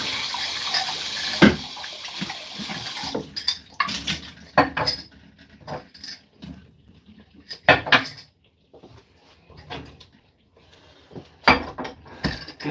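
Glass jars are rinsed under a running tap: intermittent splashing water mixed with clinks and knocks of glass, close and alone without speech.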